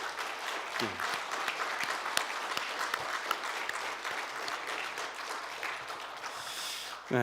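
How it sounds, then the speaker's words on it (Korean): A church New Year prayer breakfast audience claps steadily to welcome visiting pastors, a continuous moderate wash of many hands with a few sharper claps and brief voices mixed in near the end. "우리 박수로 한번 크게 환영하겠습니다."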